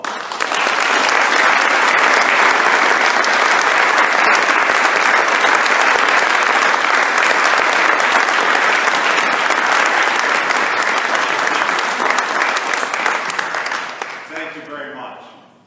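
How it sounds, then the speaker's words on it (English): A room full of guests at a law school scholarship celebration gives a loud, sustained round of applause that holds steady for about thirteen seconds before quickly fading out. "resounding round of applause?"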